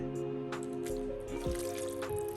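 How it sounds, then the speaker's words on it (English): Wet ingredients pour and drip into a bowl of dry cornbread mix, soft squishy liquid sounds over a steady background hum, faint and close. "Time to add our wet ingredients to the dry"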